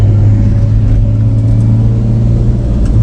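Up close, a BMW E30 drift car at a drift event gives a loud, steady engine rumble with a deep, even low-end throb that barely shifts.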